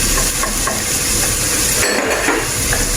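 Egg fried rice stirred and mixed in a hot pan, a loud, continuous close sizzle and hiss with scraping stirs throughout and no talk.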